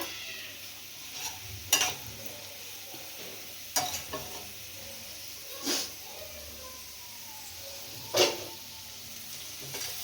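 Egg chilli fries in a pan while being stirred, a quiet steady sizzle punctuated by four distinct spatula scrapes and knocks a couple of seconds apart, with no talk.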